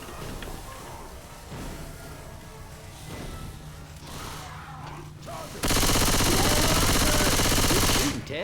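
Gunfire in the video game Left 4 Dead: a few scattered shots, then a sustained loud burst of rapid automatic fire that cuts off abruptly near the end.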